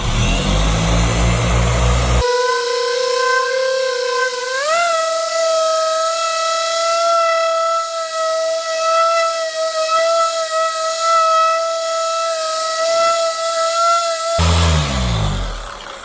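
A dual-action car paint polisher runs steadily at a set speed during paint correction, a loud continuous motor whine whose pitch jumps upward once early on and then holds, alone and close.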